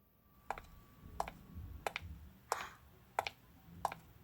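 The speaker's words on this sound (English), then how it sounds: "Someone is walking in the house." Footsteps of someone walking inside a house: six sharp, evenly spaced taps about two-thirds of a second apart, close and fairly crisp over a quiet room, with no talking.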